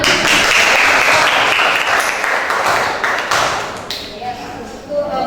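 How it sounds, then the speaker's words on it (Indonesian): Classroom audience at a teaching session claps after a math presentation, a dense burst of clapping that gradually thins and fades, with a few scattered taps near the end. "Silakan beri tepuk tangan."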